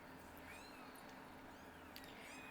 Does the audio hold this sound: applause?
no